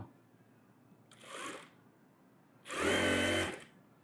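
Sewing machine stitching a net blouse runs in two short bursts, the second longer and louder, close by in a quiet room.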